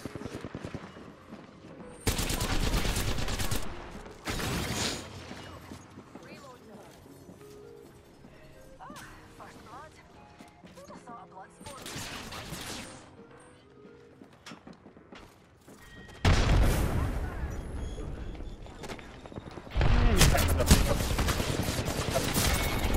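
Gunfire in the video game Apex Legends, with loud bursts of rapid shots near the start and again toward the end, plus scattered quieter shots and game noise in between.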